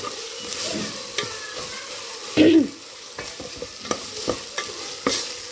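Mint and coriander leaves fry in a pan while a spatula stirs them in irregular scraping strokes over a continuous sizzle, with one louder clatter midway, close and without talking.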